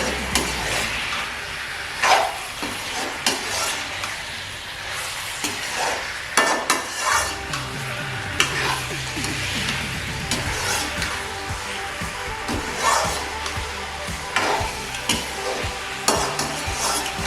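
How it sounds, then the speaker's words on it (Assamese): Jackfruit frying in a pan, a soft continuous sizzle with repeated scraping and stirring clatters, fairly quiet and close. "এনেদৰে মই অলপ পৰ ভাজি থাকিম"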